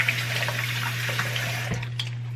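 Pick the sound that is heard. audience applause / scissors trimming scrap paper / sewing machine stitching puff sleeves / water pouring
water pouring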